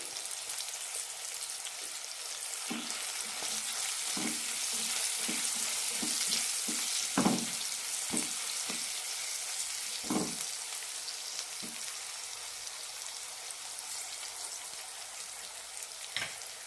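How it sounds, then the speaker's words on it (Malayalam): Green chillies being sautéed in a pan for a chilli masala fry, a soft, steady sizzle with scattered spatula taps and scrapes at irregular intervals. "രണ്ട് മൂന്ന് മിനിറ്റ് നന്നായി വഴറ്റാം മുളക് നന്നായി വെന്ത് കിട്ടണം"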